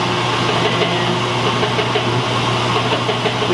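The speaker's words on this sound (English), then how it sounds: "fire up our phase converter" A rotary phase converter runs a K&T milling machine in neutral, a loud steady motor hum with noisy belts rattling and slapping over a constant drone.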